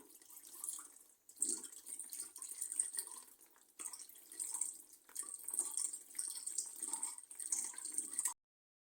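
Homemade soy milk made with dates and coconut milk is poured through a sieve, giving a soft, close trickle and splash of liquid with brief pauses and faint handling sounds.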